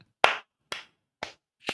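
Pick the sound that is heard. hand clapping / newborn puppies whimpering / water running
hand clapping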